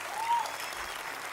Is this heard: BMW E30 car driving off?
no